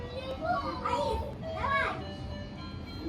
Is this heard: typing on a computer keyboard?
no